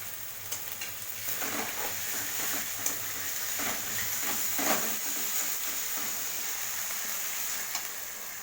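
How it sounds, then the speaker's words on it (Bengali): Ginger paste frying with meat in a pan, a steady sizzle with scraping stir strokes and occasional clinks of the spoon against the pan, heard close with no talking. "চলো তারপরে দিয়ে দিচ্ছি আদা বাটা"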